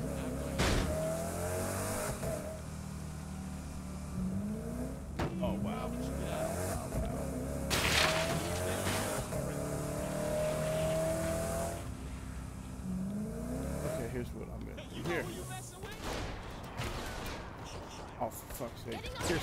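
A car in the game Saints Row: The Third driving and revving hard, engine pitch rising and falling in repeated sweeps with tire squeals, skids and bursts of gunfire, while voices talk over it.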